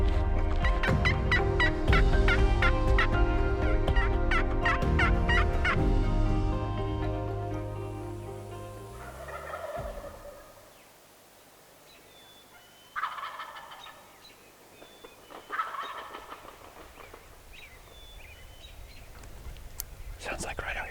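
A wild turkey gobbles several times at a distance in Nebraska public-land hardwoods after loud music fades out. The calls come as short bursts over a quiet outdoor background with soft whispering.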